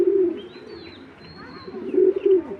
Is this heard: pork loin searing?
no